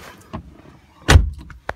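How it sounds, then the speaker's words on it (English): A 2008 Chrysler Crossfire Limited coupe door swings shut with one solid, heavy thud, close and loud, after a few lighter clicks and rustles of someone getting into the car. "you hear the way that door closes with that solid thud"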